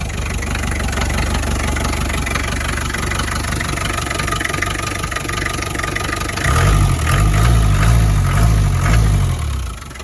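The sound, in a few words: 1986 Land Rover 90 diesel engine idling after startup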